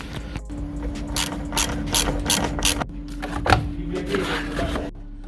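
A ratchet wrench clicks in quick repeated bursts as it undoes a 12mm bolt holding the battery of a 2011 Kia Rio, close up and fairly loud, with pauses between strokes.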